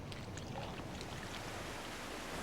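Heavy, steady rush of water from a Welsh waterfall swollen by heavy rain, a dense continuous roar with a windy edge, heard alone.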